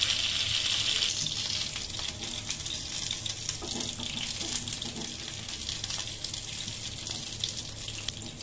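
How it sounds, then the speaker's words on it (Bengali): Flour-coated chicken fries in hot oil with a steady, loud hiss and sizzle that continues without a break, with faint crackles mixed in. "আটা দিয়ে মুরগি ভাজা"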